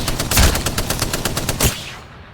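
Rapid automatic gunfire from a weapon in the video game Apex Legends, a steady burst of evenly spaced shots ringing for about two seconds with a sharper blast near the end, then trailing off into a brief echo.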